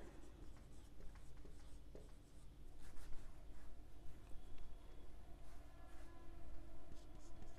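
A pen scratches out an accounts entry by hand on paper, with soft continuous strokes and small taps, close and quiet, alone without talk.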